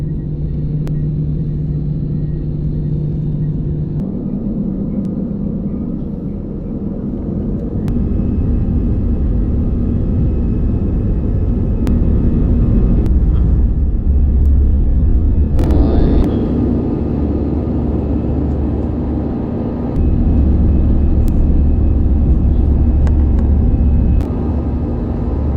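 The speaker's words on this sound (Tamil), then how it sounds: "இந்த ரன்வேல தான் இப்போ வந்து ஃப்ளைட் டேக் ஆஃப் ஆக போகுது." An Air Arabia airliner rolls along the runway for takeoff, a steady loud engine rumble and roar that builds in stages, heard continuously from inside the cabin.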